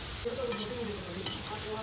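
Potatoes fry in hot oil with a bright, even sizzle and a couple of sharp spattering pops, close and uninterrupted by talk.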